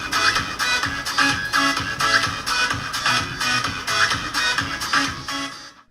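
Music with a shuffling, rhythmic beat plays through a homemade speaker built from hard drives with CD cases hot-glued to their heads, driven by a quad-channel amplifier board; steady, moderately loud, ending abruptly.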